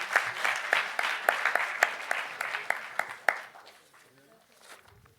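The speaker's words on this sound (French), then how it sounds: "Et on applaudit." A crowd claps in a burst of applause that keeps going for a few seconds, then fades out into quiet.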